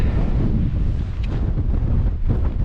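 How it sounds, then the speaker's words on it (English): Strong wind on a hilltop near the Schil and the Cheviot buffets the microphone with a continuous low roaring rumble, loud and close throughout, no speech. "It's too windy here"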